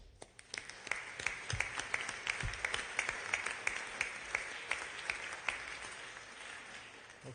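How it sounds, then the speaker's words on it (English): A room of people claps in steady, scattered applause during a Utah legislative session, fairly distant and soft, continuing throughout. "One last round of applause."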